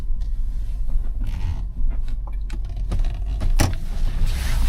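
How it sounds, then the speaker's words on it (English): A 2011 Cadillac DTS stretch limousine runs steadily while driving, a continuous low engine and road rumble with occasional clicks and knocks from the cabin and brief louder bursts, no talking. "Motor sounds good"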